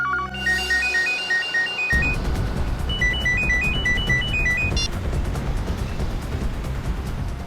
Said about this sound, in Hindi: ये फोन की घंटी बिल्कुल सही टाइम पर बजी